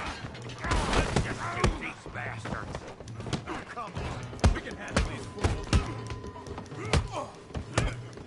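Scattered gunshots crack in Red Dead Redemption 2, irregular sharp reports spread through a busy mix of thuds and background noise.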